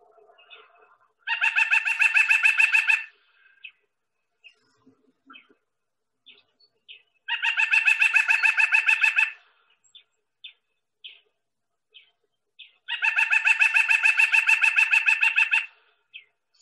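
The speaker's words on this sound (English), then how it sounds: "this is a white-breasted nuthatch" A white-breasted nuthatch calls in three separate bursts of rapid, evenly spaced nasal notes, each lasting about two seconds, with faint scattered chips in the quiet gaps between them.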